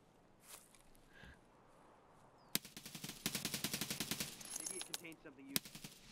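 Gunfire in the shooter game SPT during a fight at a pier: a single sharp shot followed by a rapid burst of automatic fire, then a few more scattered shots, fairly close, over quiet ambient background.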